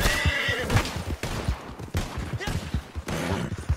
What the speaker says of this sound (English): Hey, hey, you shot my horse!